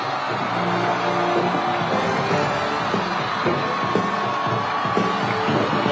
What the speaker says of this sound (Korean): 힘찬 함성과 박수로 맞아주십시오.